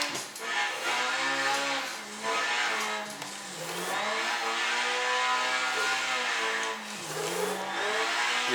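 A car engine in the Assetto Corsa racing game held at high revs while drifting, a steady loud whine rising and dipping with throttle changes and tire squeal, continuous with no talk.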